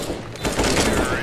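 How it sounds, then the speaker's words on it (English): Gunfire rattles in a CS:GO match, a burst of rapid shots that swells in the second half, loud and close, with voices mixed in. "Did you shoot at me, Keen?"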